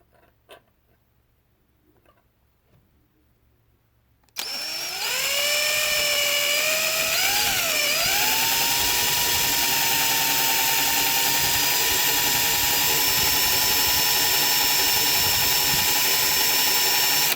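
A power drill bores into knife handle material, starting abruptly after a quiet lead-in and then holding a loud, steady, high-pitched whine with a brief dip in pitch as the bit bites, running continuously to the end.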